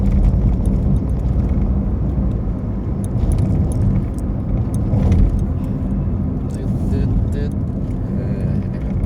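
Car driving along a mountain road near Sakon Nakhon, a steady low cabin rumble of engine and tires throughout, with someone talking over it.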